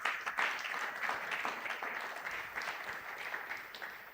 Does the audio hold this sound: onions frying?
no